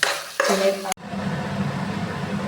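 A coconut laddu mixture of grated coconut and sugar is stirred in a pan over a low flame, a near, steady scraping and sizzling that briefly cuts out and then resumes.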